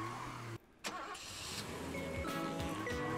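A car engine hums steadily while driving in the Citizens of Earth video game, a mid-pitched drone with a brief dip and some revving swells over continuous game sound.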